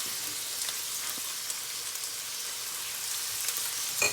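Garlic sizzling in a hot pan, a steady fine crackle with a few brief pops, close and moderately quiet, no voices.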